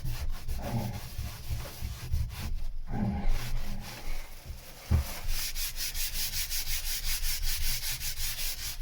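Hand sanding on the fiberglass underside of a boat deck: steady back-and-forth rubbing strokes, close and fairly loud, with a brief pause and knock midway before the rasping strokes resume in a quicker rhythm.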